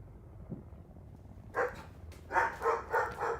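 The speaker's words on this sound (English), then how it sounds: "Y'all get to hear them bark." Dogs bark in a burst of several sharp barks after a quiet stretch, the last three coming in quick rhythm, moderately close and loud.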